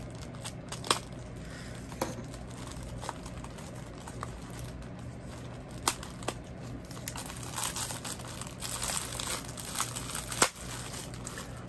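Taped packaging from a craft store haul being cut open, giving close crinkling and rustling with scattered sharp snaps and clicks, louder and busier toward the end.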